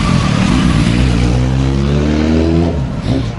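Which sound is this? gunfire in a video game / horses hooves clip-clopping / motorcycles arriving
motorcycles arriving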